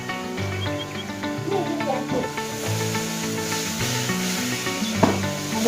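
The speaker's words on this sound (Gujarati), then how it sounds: "બધું હલાવી નાખવાનું." Cauliflower, carrots and garlic cloves are stirred in a pan, with steady scraping and rubbing of a spoon over soft sizzling while someone talks over the cooking.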